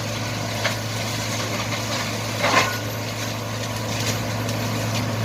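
A branch shredder's engine runs steadily at idle with a constant low drone, a few brief louder bursts rising over the continuous mechanical hum.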